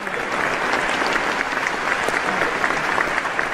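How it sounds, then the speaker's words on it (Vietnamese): Audience applause at a Vietnamese Tết comedy stage show rolls on steadily, a thick, even patter of many hands clapping for several seconds with no voices over it. "Vỗ tay."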